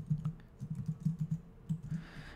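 Quick keystrokes on a computer keyboard, a series of soft, close clicks in small bursts with short pauses, heard alone without talk.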